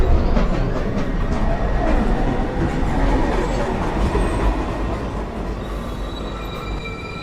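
A New York City subway train rolls into an elevated station, its steady rumble and clattering wheels filling the scene with faint squeals over the top, loud and continuous throughout.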